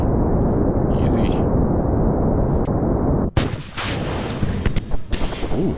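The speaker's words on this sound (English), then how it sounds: "Ooh, big explosion. They all collided." In Kerbal Space Program, rocket parts collide and explode. A roaring rush of engine noise is cut by a sudden loud blast, followed by crackling bursts and debris noise.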